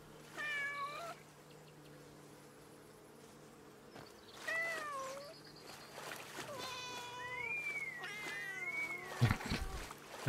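A cat in the Where Winds Meet video game meows several times in rising and falling calls, some drawn out like a caterwaul, with quiet background ambience and a few clunks between.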